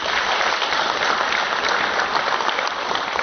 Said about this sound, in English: So let's give them a warm applause.